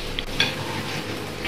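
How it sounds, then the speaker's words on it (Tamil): Ginger, garlic, salt and pepper are stirred together for kabsa chicken biryani, making a soft, continuous wet mixing and scraping close by, with a few faint light clicks of a utensil. "இதை நல்லா மிக்ஸ் பண்ணோம்."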